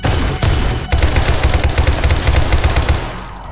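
Rapid heavy gunfire in the survival game 7 Days to Die, loud close shots following one another in a fast, dense stream for about three seconds before cutting off.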